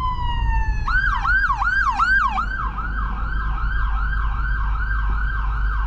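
A loud ambulance siren wails in a fast, repeating yelp, then shifts to a slightly slower cycling pattern over rumbling traffic during a street protest.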